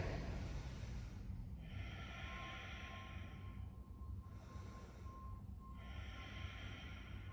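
Slow, deep breaths held in a yoga pose, two long airy inhale-exhale swells, close and steady over a low background hum.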